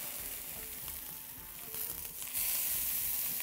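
Zucchini slices fry in a pan with a steady, soft sizzle and crackle that swells louder near the end, with no talking.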